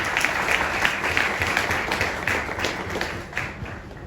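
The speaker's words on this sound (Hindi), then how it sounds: "जोरदार तालियां" Warm crowd applause at a music launch event for a debut song, many hands clapping steadily and fairly close, fading slightly toward the end.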